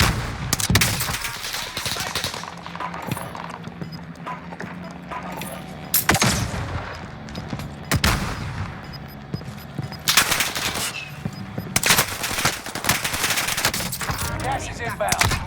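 Dense automatic and rapid gunfire in the Call of Duty Vanguard video game on the Caldera map, continuous bursts and volleys for about fifteen seconds, some shots close and loud, others farther off.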